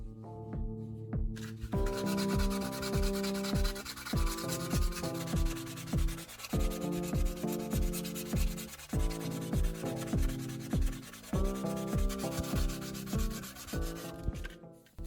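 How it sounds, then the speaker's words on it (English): Close, steady sanding on a knife handle made from plastic bottle caps: repeated rhythmic rasping strokes over a constant humming tone, loud and unbroken throughout. "Keep sanding until the plastic feels smooth and balanced."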